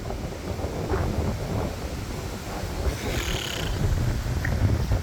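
Strong wind roaring against the microphone in a continuous low rumble, gusting louder toward the end, with no talking.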